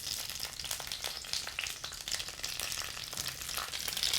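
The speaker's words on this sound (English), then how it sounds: "So we've got some butter melting, and we're going to go ahead and put our fresh asparagus in there." Fresh asparagus frying in melted butter in a pan on the stove, an even crackling sizzle with small pops, moderately quiet and without voices.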